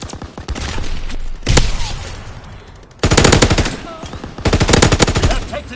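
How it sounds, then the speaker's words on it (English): Bursts of automatic gunfire in a PS4 shooter, loud and close: a volley around the middle, then two long sustained bursts of rapid shots in the second half, with softer game sounds between. "Keep firing!"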